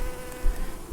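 Honeybees buzz close and continuous during a hive inspection, a dense droning hum with brief louder swells as individual bees pass near.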